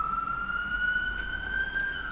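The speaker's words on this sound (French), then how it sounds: "Je pense qu'on entend super fort les sirènes dehors avec la fenêtre ouverte." Emergency sirens wail steadily outside, coming in through an open window as a loud, sustained rising tone with no talk.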